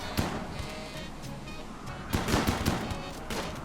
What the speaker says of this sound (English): Okay, decent shooting there.